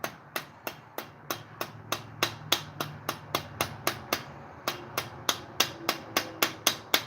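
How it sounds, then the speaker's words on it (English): A small wrench socket taps a part into a chainsaw crankshaft with a steady series of about twenty sharp metallic knocks, evenly spaced and close up, with no talking. "Then we're going to get a small wrench socket and just tap it in there."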